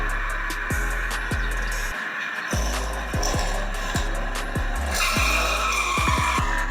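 Hot Wheels die-cast toy cars racing down a track, with a steady rushing roll and repeated rhythmic clacks as the wheels cross track joints, fairly loud and continuous without speech.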